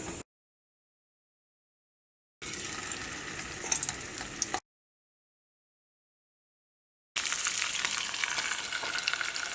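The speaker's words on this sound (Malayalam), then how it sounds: "അടുത്തത് നമുക്ക് മീൻ വറുക്കാം." Fish frying in a pan at home, a steady loud sizzle and crackle heard in two separate bursts with silent gaps between them, no voices.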